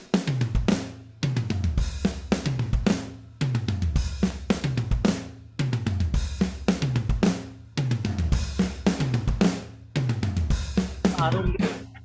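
A drum kit pattern processed with a phaser effect, repeating beat phrases with sweeping, swirling tone, loud and steady, with short pauses between phrases.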